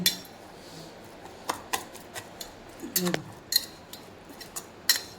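Turmeric and red chili powder being mixed in a bowl for egg bread, with a spoon clinking against the bowl in a dozen or so light, irregular taps over quiet room tone.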